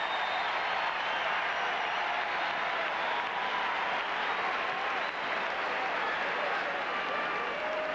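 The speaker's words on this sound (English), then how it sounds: "a big cheer erupted when Magic got up" An arena crowd at Game 3 of the 1982 NBA Finals, Philadelphia at the Lakers, cheers and applauds as Magic Johnson gets up off the floor, a sustained roar of clapping and voices holding steady for several seconds.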